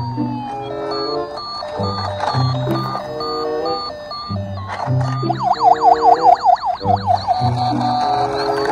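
A toy ambulance switched on plays a bright electronic melody, then a rising-and-falling warbling siren repeats rapidly in the second half, loud and close with no talking.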